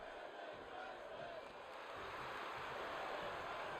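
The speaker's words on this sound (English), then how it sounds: "Crowd here chanting women's wrestling." A wrestling arena crowd chants in unison at a women's wrestling match, a faint, continuous wash of many voices from a distance with no clear beat standing out.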